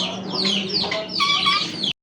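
A large native deshi chicken clucks and calls nearby, a run of loud, close squawky notes lasting under two seconds before cutting off.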